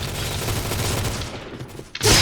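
Rapid bursts of SCAR-L rifle fire in the shooter game Point Blank run continuously and loud for about two seconds, then break off into a brief pause before a sharp final blast.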